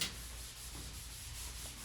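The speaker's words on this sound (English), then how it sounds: "I'm using a sanding block out to rub out my small skim coat that I was doing." A sanding block rubs over a small skim coat of joint compound on drywall, a steady, continuous, fairly faint scratchy hiss held for under two seconds.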